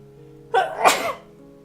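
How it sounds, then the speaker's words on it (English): A single close allergy sneeze, a quick sharp intake followed by a burst of noisy breath, with quiet room hum before and after. "Pardon the sneeze."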